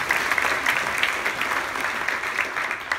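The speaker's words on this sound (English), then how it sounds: "let's give them a round of applause" A graduation ceremony crowd at a UC Berkeley ethnic studies commencement claps steadily, a dense, moderately loud patter of hands with no voices over it.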